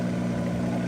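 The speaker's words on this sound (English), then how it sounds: "Oh, it sounds sweet. You've just brought a Lamborghini Huracan." A Lamborghini Huracan engine running steadily with a low, even hum and no change in pitch, heard close and alone.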